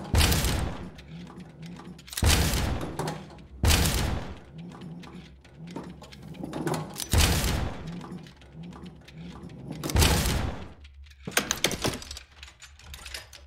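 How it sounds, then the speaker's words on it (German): Cannons firing in the puzzle game The House of Da Vinci 3, a series of loud booming blasts every couple of seconds, each with a rattling mechanical tail, followed by quieter clanking. "Ich habe jetzt nicht damit gerechnet, dass hier auch noch Kanonen abgefeuert werden"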